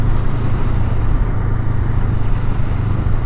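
A Honda Rebel 500 motorcycle on the move gives a steady, loud engine drone with a low rumbling hum that holds even for the whole stretch, with no voices over it.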